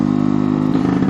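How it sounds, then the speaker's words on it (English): A newly built two-stroke engine idles with a fast rattling beat, then a quick throttle blip swells the loud mid-pitched buzz briefly before the revs drop back. "I blip the throttle like I did on the last video"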